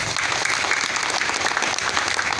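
University students applaud as their campuses are named at a political support gathering, a dense, steady burst of crowd clapping that stays loud and even throughout.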